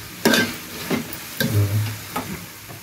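Fenugreek, peas and tomato frying in a pan for a methi matar malai curry, with soft sizzling and a few stirring scrapes coming in bursts, close and moderately loud.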